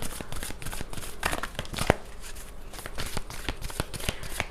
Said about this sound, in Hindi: तो यहाँ पे मैं कार्ड्स पे शफल कर लेती हूँ।